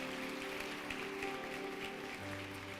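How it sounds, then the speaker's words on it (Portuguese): Congregation in a church applauding, continuous many-handed clapping heard faintly at a distance beneath a held keyboard chord, steady and even throughout. "Você pode aplaudir ao Senhor pela vida desse Cohen?"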